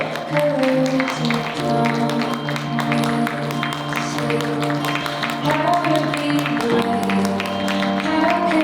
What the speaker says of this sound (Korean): 여러분들 축복의 박수 응원해 주시기 바랍니다.